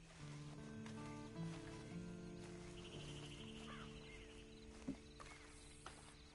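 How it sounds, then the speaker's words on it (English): A horse in a video game walks with soft, faint clip-clopping hooves under tonal game music, with a single sharper knock partway through. "Then you better get on this horse."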